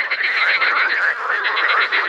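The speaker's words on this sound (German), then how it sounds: "Die Frösche haben heute Nacht ein richtig krasses Konzert veranstaltet." A dense chorus of frogs croaks continuously at night beside a new lake, loud and close, with overlapping rhythmic calls and no talking.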